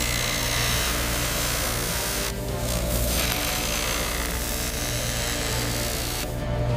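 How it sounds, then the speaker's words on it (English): In a diamond factory, a steady grinding whine fills the air as one diamond is bruted against another to shape a stone's girdle into a perfect circle. Dense machine noise holds throughout, loud and unbroken, with no voices. "Bruting uses one diamond to shape another, defining the final diameter and the symmetry of the girdle."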